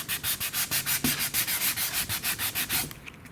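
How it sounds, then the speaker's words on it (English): Rhythmic back-and-forth sanding of a BlitzRCWorks/AF L-39 model aircraft, about twenty quick rasping strokes in a steady beat, close and fairly loud, then stopping. "This is sanding quite nicely."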